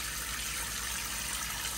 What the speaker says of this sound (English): pour off back some of the water there again